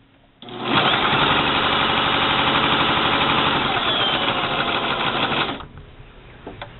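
A Brother LX3014 sewing machine runs a straight stitch at steady speed, a close, continuous rapid mechanical whir that starts abruptly and stops cleanly after about five seconds.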